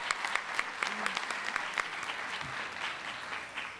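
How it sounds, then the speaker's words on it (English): A crowd applauds a visiting performance troupe from Charlotte, North Carolina, at a Donning of the Kente ceremony. Continuous, even clapping sounds somewhat distant and soft throughout. "Let's give another round of applause to our performers"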